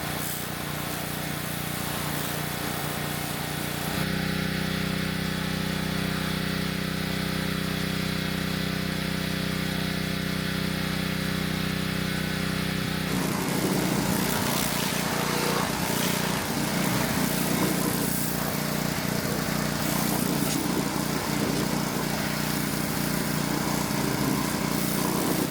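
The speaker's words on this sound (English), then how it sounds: "I'm gonna just hit this with the pressure washer real quick, clean up a little bit" A pressure washer runs steadily for the whole stretch, a droning motor with hissing spray that shifts in tone partway through as it cleans a Vermeer S800TX mini skid steer outdoors.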